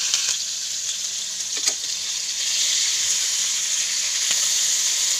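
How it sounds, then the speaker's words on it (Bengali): Small shrimp coated in turmeric and salt fry in a pan with a continuous, close sizzle and hiss, swelling slightly louder partway through, with no talking. "হলুদ লবণ মাখিয়ে নিলাম, ভাজবো।"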